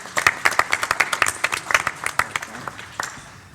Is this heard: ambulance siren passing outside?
no